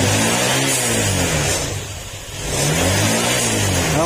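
A motorcycle engine revs up, dips briefly as the throttle eases, then climbs again, loud and close with no talking; the throttle is stiff and slow to return.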